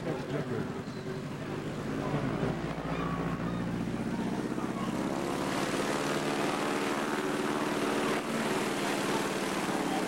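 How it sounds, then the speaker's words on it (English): A heavily modified propeller bush plane takes off on a short-field run in Alaska, its engine a loud, steady droning roar with wind buffeting the microphone throughout. "Notice how the pilot works the tail of this highly modified plane to help coax it off the ground"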